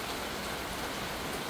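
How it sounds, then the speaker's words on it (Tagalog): Heavy typhoon rain pours steadily in a dense, continuous hiss, loud and close, with no other sounds. "parang umuulan po na malakas mga ka-jolly"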